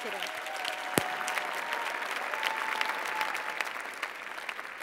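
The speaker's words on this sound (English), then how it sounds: "A round of applause, please, for our honoree, Lisa" An audience at an awards dinner applauds steadily, a dense wash of clapping that holds at an even level throughout.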